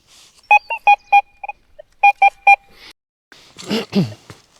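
A metal detector sounds a series of short electronic beeps in two quick bursts over a possible musket ball in a field, followed by rustling and handling noise.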